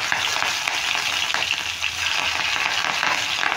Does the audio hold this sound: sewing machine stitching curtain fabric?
no